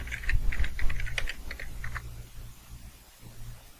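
Typing on a computer keyboard while entering commands, with quick clusters of crisp key clicks in the first two seconds and scattered keystrokes afterward over a low steady hum.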